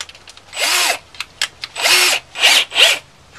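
Several bursts of a power drill driving screws into pre-drilled holes, each rising in pitch as it spins up, with short pauses and small clicks between runs.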